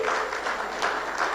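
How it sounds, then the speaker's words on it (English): Audience applause at a health training institutions dialogue event, a steady wash of clapping at moderate level lasting the whole short stretch with no voices over it. "Let's put our hands together for Jason Wright."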